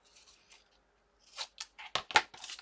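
Paper being rough-cut with scissors while making a Christmas folio notebook: a few quiet snips, then a cluster of sharp, close crunchy cuts in quick succession, with no talking.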